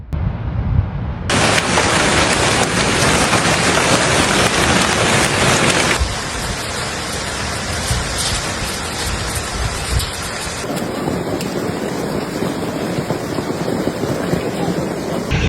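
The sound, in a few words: hailstorm in Paris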